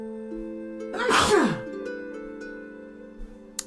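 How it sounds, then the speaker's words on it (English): A single loud, close sneeze bursts out of a quiet room with a steady electronic hum in the background, followed by a short breathy exhale and then stillness. "I think I'm about to sneeze"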